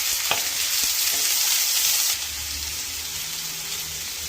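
Onions fry in a pan for a bitter gourd dish, giving a bright, constant close sizzle that drops somewhat in level halfway through, with a few faint utensil taps.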